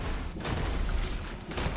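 Sustained video game gunfire in Starfield, a dense continuous fusillade of overlapping shots and impacts filling the whole moment at steady loudness, with no talking over it.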